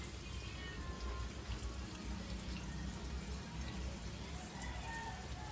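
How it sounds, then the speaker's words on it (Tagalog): Steady rushing water fills the clip as an LG inverter 7.5 washing machine rinses, a continuous spray and gush, close and fairly constant throughout. "Nagbabanlaw na siya. Ayan. Malakas naman yung tubig niya."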